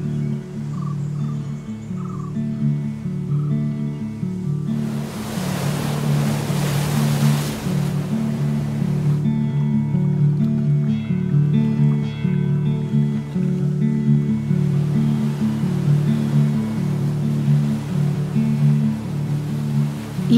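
Sea waves wash against an island shore, a steady surf roar that surges louder for a few seconds twice, mixed with a low continuous drone.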